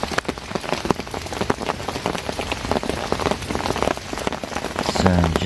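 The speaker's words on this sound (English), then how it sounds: "as you can hear, the rain has well and truly arrived now" Rain falls hard on a lake, a dense and loud patter of drops pelting the surface near at hand that runs steadily throughout.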